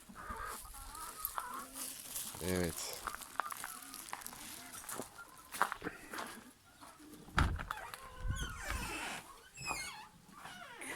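Hens in a coop cluck and squawk in scattered bursts at close range, with faint talking and a distant dog among the calls.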